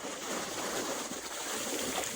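Steady ocean surf washing onto a beach at Punta Cana, a broad continuous hiss and wash at moderate distance with no voices.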